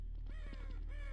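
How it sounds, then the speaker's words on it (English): Crows cawing in Garry's Mod, a few harsh calls in quick succession over a steady low hum, fairly faint and alone without talk. "the crows outside flew away"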